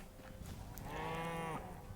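Cows low in the Hytale video game with one drawn-out moo of moderate loudness that rises and holds, set over a faint steady background bed and with no talking.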